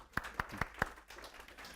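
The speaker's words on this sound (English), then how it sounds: "Round of applause." Four crisp, evenly spaced hand claps in a university computer science lecture hall, close and brief, fading into quiet room noise.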